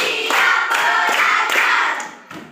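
Rhythmic hand clapping from a group in a classroom, a steady run of bright claps filling the clip at close range with a dense, crowd-like texture and no talk.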